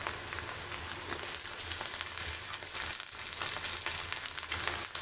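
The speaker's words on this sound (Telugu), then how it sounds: "ఉల్లిపాయ ముక్కలు అయితే వేగిపోయాయండి. ఇప్పుడు ఇందులో మనం బంగాళదుంప ముక్కలు వేసుకున్నాం." Onion and potato pieces fry steadily in a pan for a potato-tomato curry, a continuous close sizzle with small crackles and pops and no talking.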